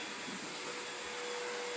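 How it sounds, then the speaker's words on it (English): Vacuum cleaner running over carpet, a steady, close whining roar that holds even throughout with no voices over it. "You want to vacuum the carpet?"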